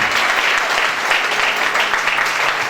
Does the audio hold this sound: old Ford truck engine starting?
no